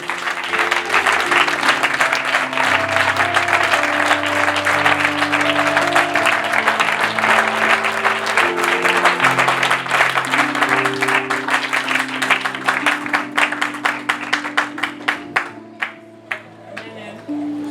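A church congregation bursts into sustained applause and clapping for many seconds, loud and dense, with voices and cheers mixed in, thinning into scattered claps near the end.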